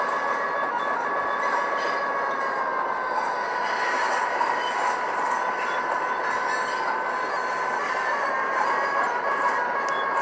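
Amtrak F7 locomotive in Phase 1 paint hauling three Superliner cars at about 50 mph in a video game, giving a loud, steady rolling rumble with a sustained mechanical hum throughout and no voices.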